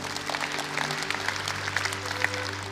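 Church congregation during a sermon clapping together, a dense, even wash of applause in a large room with a steady low hum beneath, no talking over it.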